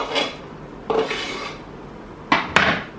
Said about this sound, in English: Do I piss you off with this chopping?